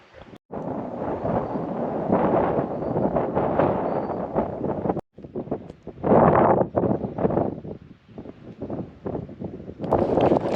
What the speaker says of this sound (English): Got pretty windy.